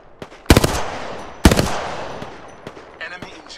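Gunfire in the video game Apex Legends: two loud, close bursts of rapid shots with a sharp attack, then scattered single cracks and softer distant fire trailing off.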